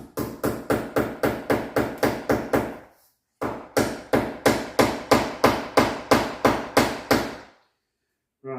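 A hammer drives a tack into plasterboard with two quick runs of sharp, evenly spaced blows, about a dozen strikes in each, separated by a short pause, loud and close with no talking.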